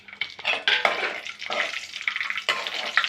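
Raisins frying in hot ghee for semiya payasam, a steady crackling sizzle with stirring scrapes and light utensil clinks, fairly close and continuous with no talk.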